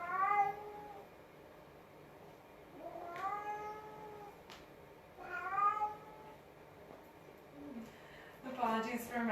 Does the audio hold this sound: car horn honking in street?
no